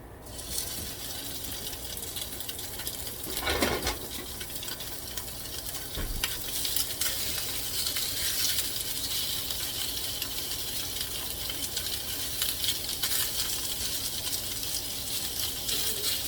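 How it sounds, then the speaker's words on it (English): Sausage fries in a pot, a continuous crackling sizzle with occasional stirring scrapes, steady and moderately close throughout. "Add the sausage first, let it cook up."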